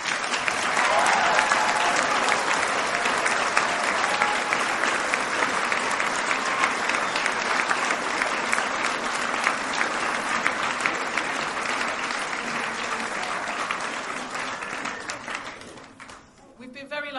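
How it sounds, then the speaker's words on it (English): A theatre audience gives a long, loud round of applause, dense continuous clapping with crowd noise that holds steady for over fifteen seconds before dropping off abruptly at the end. "Can we give them another round of applause, please?"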